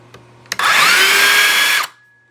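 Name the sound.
DeWalt DCS566 circular saw powering up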